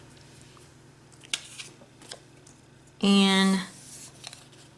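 Scissors snip through cardstock while cutting out paper butterflies for a handmade shabby chic card, one loud close crunchy cut of about half a second after a few faint handling taps, with a voice speaking briefly.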